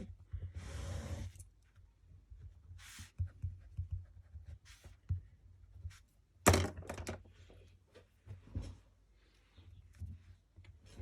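Pen or marker drawing and writing on a surface, scattered short scratchy strokes and taps in a quiet room, close and fairly soft, with one louder knock midway.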